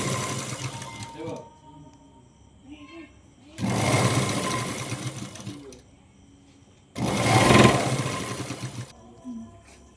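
A sewing machine stitches a Punjabi dress, running in two loud bursts a few seconds apart, with someone talking in the quieter stretches between and around them.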